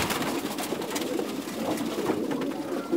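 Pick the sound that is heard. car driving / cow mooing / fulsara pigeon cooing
fulsara pigeon cooing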